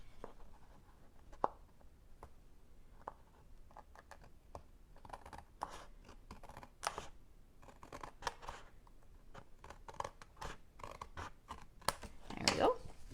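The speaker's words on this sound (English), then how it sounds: "I'll trim this off." Scissors snip paper during a paper card craft, a quiet run of short crisp cuts and rustles, with one louder rasping stroke near the end.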